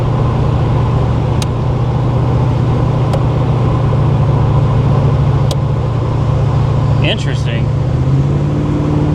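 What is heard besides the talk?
Monte Carlo SS car engine accelerating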